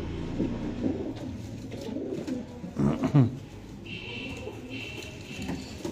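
Pigeons coo nearby in soft, repeated throaty calls, with light rustling and background bird chatter.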